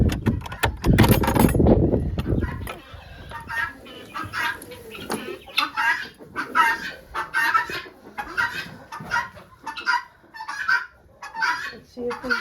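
Chickens on a farm in winter cluck in repeated short, close bursts, following a loud rustling commotion during the first couple of seconds.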